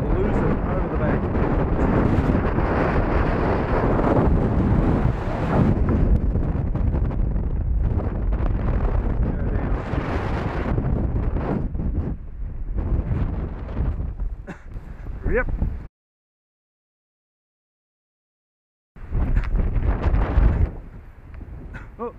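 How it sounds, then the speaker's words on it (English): Strong, continuous wind roars and buffets the microphone outdoors while an RC chuck glider with an R-X4R receiver flies, cutting out briefly near the end before resuming. "Can handle this sort of wind though."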